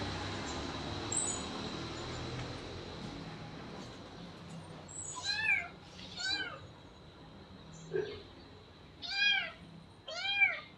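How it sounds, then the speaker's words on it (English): A little kitten gives a series of thin, high meows, some doubled, at a modest distance against a faint hissing background, growing more frequent toward the end. "I'm going to check out this little kitten"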